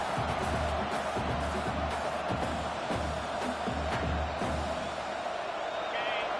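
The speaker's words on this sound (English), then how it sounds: "And this big crowd doing everything possible to inspire this defense down here near the goal line." A big stadium crowd roars steadily in College Football 26 as the defense holds near the goal line, a dense, continuous wash of cheering and noise with a commentator's voice running over it.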